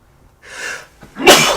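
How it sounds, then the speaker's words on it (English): A person sneezes close to the microphone, a breathy inhale followed by a sharp, loud burst of air and a brief hissing tail. "Excuse me, I'm gonna sneeze."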